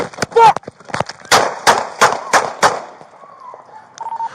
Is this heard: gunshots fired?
yes